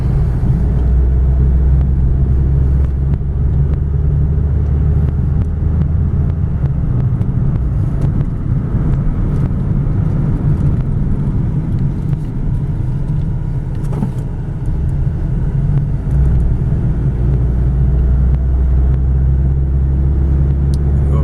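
Steady low engine drone and road rumble from inside a moving 1987 Mazda 626, a constant hum that barely changes over about twenty seconds.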